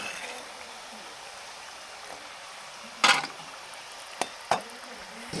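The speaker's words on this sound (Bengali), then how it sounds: "বাকিগুলো এইভাবে আরেকবার ভেজে নেব।" Round nimki pastries frying in hot oil, a soft steady sizzle and bubbling held at low level, broken by a few sharp utensil clinks and scrapes near the end, with no talk.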